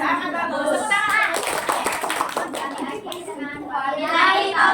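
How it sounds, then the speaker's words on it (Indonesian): A classroom group claps in a steady patter of many hands that builds through the middle, mixed with children's and adults' voices talking over it. "Tepuk tangan."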